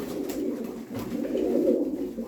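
Soft, continuous cooing of pigeons at a live bird auction, several birds overlapping in a steady low murmur, close by with no talking.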